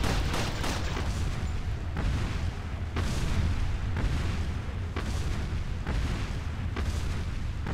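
Punisher handgun shots in Resident Evil 4, heavy booming reports spaced about a second apart in a steady rhythm, loud and close over a continuous rumbling background.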